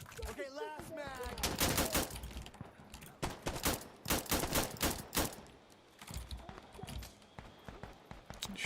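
Rapid bursts of gunfire from a video game shooter crack out in clusters, including shotgun blasts fired at point-blank range, loud and close, with a voice and reload clatter mixed between volleys.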